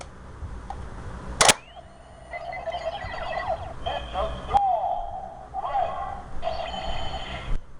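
A toy Gosei Morpher plays an electronic transformation effect: a sharp click, then warbling synthetic tones and chirps in several bursts, fairly loud against background hum.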